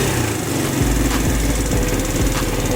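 A free 110cc Chinese quad's small engine idles steadily up close, a continuous buzzing putter with a slight uneven pulse.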